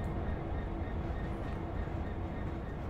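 A long freight train hauling stone in the Train Sim World game rumbles steadily, a continuous low rolling drone with faint wagon rattle throughout.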